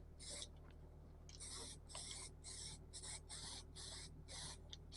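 Spray paint can with a slightly blocked nozzle, spraying paint over welds in a series of short hissing bursts, about eight, with brief pauses between them, fairly quiet and close, over a low background hum.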